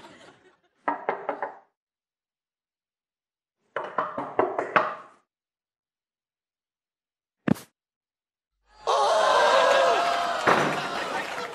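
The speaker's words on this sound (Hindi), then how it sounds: "अरे कमरे का दरवाजा खटखटाएंगे तब पता लगेगा।" Knocking on a room door: several short bursts of raps separated by pauses, then a single sharp knock, followed by noisy commotion with voices.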